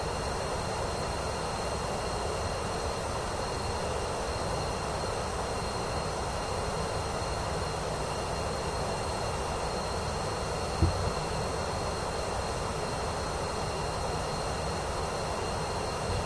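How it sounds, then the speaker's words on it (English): Simulated Pilatus PC-24 jet on approach to land at Paris in Microsoft Flight Simulator 2024, a constant loud engine and airflow roar with a single brief thump near the end, no talk. "We're going to see if this PC-24 can land itself."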